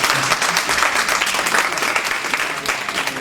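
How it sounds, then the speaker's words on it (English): Steady audience applause fills a convention hall at a 2011 Maryland gathering, dense and continuous clapping holding at a fairly even level throughout with no speech over it. "I want us to please give a round of applause to our bureau"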